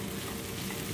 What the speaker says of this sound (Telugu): చాలాసేపు ఇదే విధంగా మనం వేయించుకోవాలన్నమాట